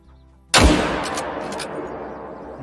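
A single loud rifle shot fired at a whitetail buck in a hunting game, a sharp close crack followed by a long rolling echo that slowly fades over the next two seconds, with no talking.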